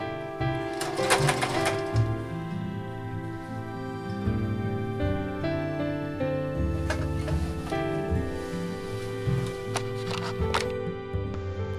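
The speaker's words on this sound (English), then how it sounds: "it may be easier to take your skirt out from under your machine and flip it around so that you can sew with the pleats" A sewing machine stitches a petticoat waistband, its steady mechanical whir and rapid needle clatter running continuously at close range, with a few brief rattling bursts along the way.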